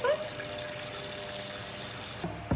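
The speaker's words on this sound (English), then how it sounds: "We add the water to it. To dissolve the salt." Water poured onto a teaspoon of salt in a kitchen container to make salt water for brining chicken tenderloins: a steady close splashing pour running throughout, ending with a brief clatter, no talking.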